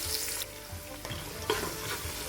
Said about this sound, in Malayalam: അണ്ടിപ്പരിപ്പ് മൂത്ത ശേഷം 2 ചെറിയ സവാള ചെറുതാക്കി ചോപ്പ് ചെയ്തത് ഇട്ട് കൊടുക്കുക.